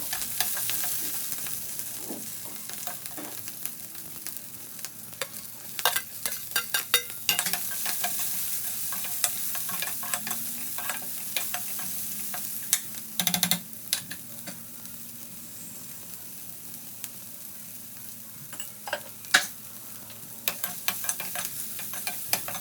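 Onions and green chillies fry in a pan with a steady close sizzle, broken by irregular scraping and stirring knocks from a spatula, with no talking throughout.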